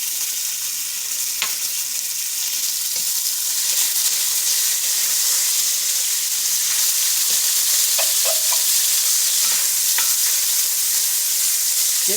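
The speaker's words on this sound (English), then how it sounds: "you want to go ahead and cook your bacon. Put the oil in." Bacon frying in oil in a pan gives a steady, bright hiss and sizzle throughout, with occasional small pops and scrapes of stirring, no talk.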